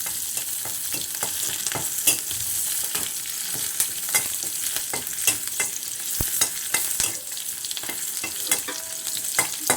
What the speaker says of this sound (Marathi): मिरची फोडणीसाठी घालते चांगलं भाजून घ्यायचं लसणाचा वास तेपर्यंत भाजायचं